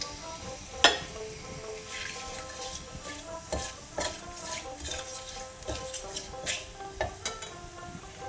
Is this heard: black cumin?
yes